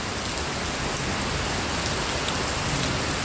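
Steady rain pours down close by, a continuous dense hiss with no breaks and no voices, the downpour heard alone from start to finish.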